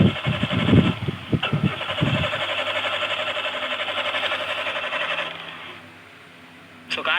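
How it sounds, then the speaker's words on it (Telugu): A car's starter cranks repeatedly after petrol that had been buried underground for three months is used, then settles into a steady whirring drone that cuts off, with a brief restart attempt at the end. "సో ఇప్పుడు మీ ముందే కార్ని అయితే స్టార్ట్ చేస్తున్నా."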